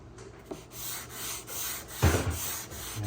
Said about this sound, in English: I'm just letting the block just sand it.